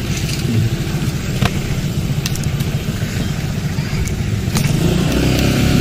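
A motorcycle runs along a narrow alternative village road near the Lapindo mudflow area, its engine a loud, close, continuous buzzing drone with rough wind-like noise and a few faint knocks.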